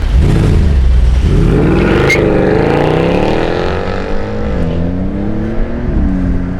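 A 2011 Mercedes C63 AMG engine revs up loudly, pitch climbing and wavering as it is pushed higher, then easing back, close and continuous throughout.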